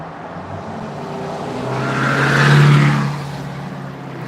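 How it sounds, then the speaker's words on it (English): Cars speed past on a street, one loud pass swelling up with a tire-and-engine roar around the middle, then fading back to a steady traffic hum. "This cars always drive by, dude."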